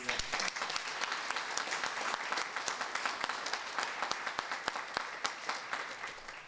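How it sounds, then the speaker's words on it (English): An audience at a donation ceremony gives a steady round of applause, with individual sharp claps standing out from the dense clapping throughout. "Let's give them all a round of applause"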